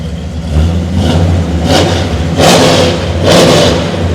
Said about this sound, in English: I'll fire it up, let you hear it run real quick.